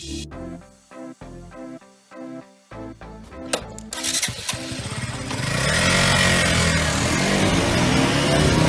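Motorcycle engine from a Bajaj Pulsar NS200 BS6 or KTM Duke 200 BS6, a few short blips of the throttle then rising into a loud, sustained roar as the bike revs up and pulls away, close by with no speech.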